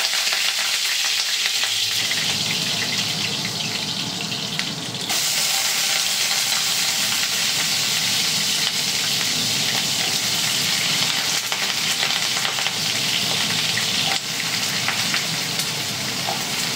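Okra frying in hot oil with a cumin tempering, a loud continuous sizzle and crackle with stirring, growing busier after a few seconds and running on without talk.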